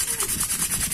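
Sandpaper rubs a motorcycle magneto in quick, even back-and-forth strokes, a close, dry rasping that lasts about a second with no talk.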